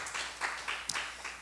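A church youth congregation claps in thanks for their regular accompanist, a brief scattered round of applause at moderate distance, fairly soft, with a few sharper claps standing out.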